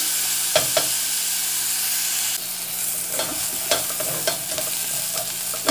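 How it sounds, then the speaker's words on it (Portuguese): Onion frying in a pressure-cooker pot, a steady soft sizzle with occasional stirring scrapes and clicks, heard close and alone without talk. "Agora vamos deixar fritar aí a cebola."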